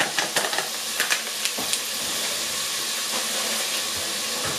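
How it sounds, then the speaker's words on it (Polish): Bacon sizzles steadily in a frying pan, a dense close hiss with a few soft clicks and stirring taps in the first two seconds, then an even spitting sizzle alone. "Boczek się podsmaża."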